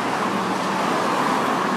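Steady road traffic on a busy main street beside a home garden, a continuous broadband rush of passing cars and engines at moderate loudness with no pauses or speech.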